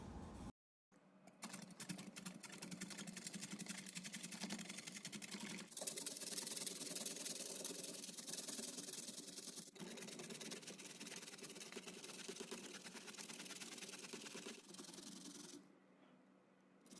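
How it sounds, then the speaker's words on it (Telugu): Zucchini and other vegetables grated unpeeled on a kitchen grater, a steady rasping scrape running continuously and fairly close, with brief pauses and shifts in strength between strokes. "జుకీనీ పీల్ చేయకుండానే ఈ మూడిటిని చక్కగా తురుముకోవడం అయితే జరుగుతుంది."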